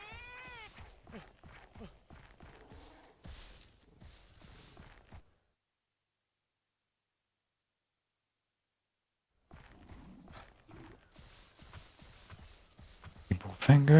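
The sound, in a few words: cats meowing in a video game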